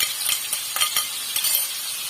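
Green chili sambal paste frying in oil in a pan while being stirred, a close bright sizzle punctuated by repeated scraping stirs at an uneven rhythm, no voices.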